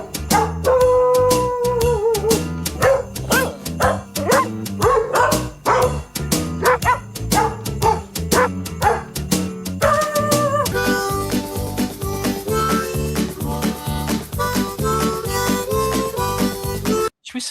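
A Christmas tune performed with dog barks: a string of barks pitched to follow the melody over a bouncy musical backing, loud and continuous, with the arrangement thickening partway through.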